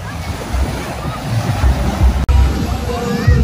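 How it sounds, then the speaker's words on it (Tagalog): Ocean surf rolling onto Masao beach in Butuan City, a steady, loud wash of waves with wind buffeting the microphone throughout and a brief dropout partway through. "So ito yung dagat na sa Masaw."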